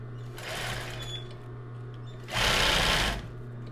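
A sewing machine stitching a small zigzag in two short runs, a softer burst followed by a louder, faster one, over a steady low motor hum.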